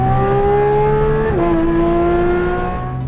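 A sports car engine holds a loud, high-pitched rev up to 9,000 RPM, then dips in pitch as it shifts and keeps droning steadily nearby.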